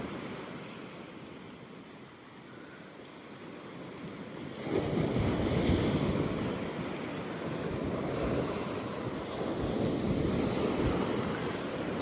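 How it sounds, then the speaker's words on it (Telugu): Sea waves crash against rocks on Kakolem Beach in Goa, a steady roaring wash that swells louder partway through, mixed with wind noise on the microphone and no voices. "రాళ్ళకు కొడుతుంటే సముద్రం."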